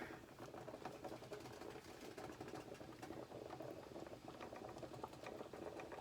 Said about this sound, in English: So I'm letting that boil.